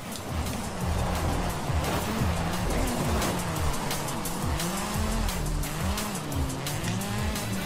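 A car in the racing video game Forza Horizon 5 skids hard, its tires squealing in repeated swooping wails over a loud, continuous engine roar through a long slide.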